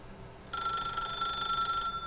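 A telephone in The Stanley Parable rings with a bright, steady electronic bell tone that starts abruptly, holds for just over a second, then stops, clear against a quiet background.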